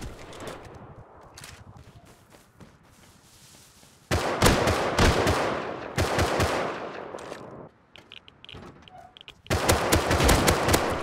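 Gunfire in the survival video game Rust crackles in bursts, with quieter scattered shots first, then loud sustained volleys of rapid automatic fire that stop and start again.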